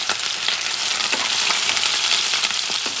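Scallops searing in a hot pan, a steady loud broadband sizzle with occasional sharper pops and crackles throughout, no voices.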